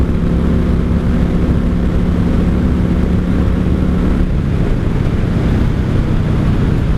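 A 1995 Honda Shadow VLX 600 V-twin motorcycle under throttle on the road, a loud continuous engine drone mixed with heavy wind rush, steady with a slight shift in tone partway through.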